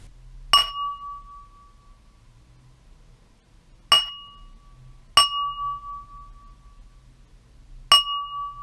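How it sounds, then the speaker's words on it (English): A wine glass is tapped four times, each strike a clear, bright ding that rings out and decays, spaced unevenly in an otherwise quiet setting. "I also recorded myself tapping a wine glass like I was about to give a toast"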